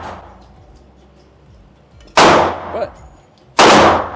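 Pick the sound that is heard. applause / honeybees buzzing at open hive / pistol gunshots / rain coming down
pistol gunshots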